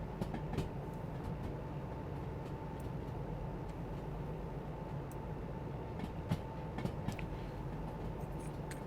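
Steady rumble of a locomotive rolling on rails in the train game Derail Valley, a continuous low drone with a faint tonal hum and occasional clicks and knocks from the track, with no talking.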